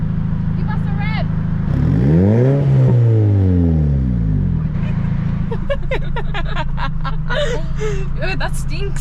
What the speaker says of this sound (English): Hey mate, give us a rev.